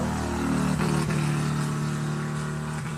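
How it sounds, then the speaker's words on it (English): Heavy road traffic rumbles past outdoors, a loud continuous drone of car and motorcycle engines with a passing vehicle surging near the start. "I'm sorry I'm having to get louder, but traffic's getting heavier."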